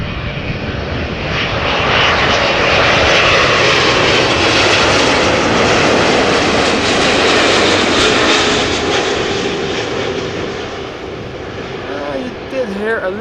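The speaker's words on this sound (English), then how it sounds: "Hear a little bit of that howling, but it's much more pronounced with the 300s and the freighters." Boeing 777-300ER jet engines roar loudly and steadily on arrival at Amsterdam, a broad sustained howl that swells in the middle and eases slightly toward the end, with no talk over it.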